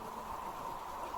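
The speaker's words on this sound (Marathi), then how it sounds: "आता पावस मातसो कमी जालो तरी पण पडटा." Rain that has eased off keeps falling as a soft, even patter and hiss, faint and steady with no voices.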